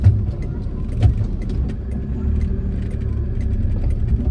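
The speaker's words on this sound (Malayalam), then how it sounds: "ഓ, സ്റ്റാർട്ടായി. ഒരു കുഴപ്പമില്ല, വണ്ടി സ്റ്റാർട്ടായി." A car engine idling steadily just after being started, giving a continuous low, close rumble with a slight bump in loudness early on and no other sounds over it.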